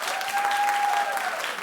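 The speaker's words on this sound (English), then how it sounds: "clap if you think this is fantastic" A studio audience on a talk show applauding: dense, steady clapping throughout, with a voice running over it.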